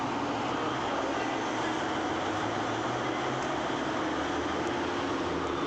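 A diesel-engined Darjeeling toy train stands at Darjeeling station, its engine giving a steady, droning rumble that holds evenly without a break.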